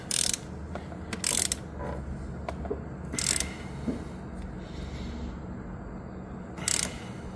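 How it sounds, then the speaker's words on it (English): Torque wrench ratcheting ARP head studs down to 70 foot-pounds on a turbocharged KA24E cylinder head, heard as several short, bright metallic ratchet bursts spaced a few seconds apart over a low background hum, close and fairly loud, with no talking. "The scariest thing is torquing a head down."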